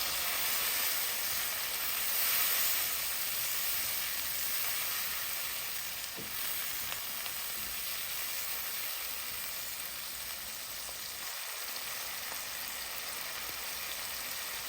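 Garlic paste frying in a pan for red amaranth greens makes a steady, fairly loud hiss and sizzle that holds evenly throughout, with a faint high whine underneath and no talking.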